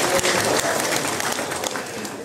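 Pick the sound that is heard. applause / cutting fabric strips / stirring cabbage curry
applause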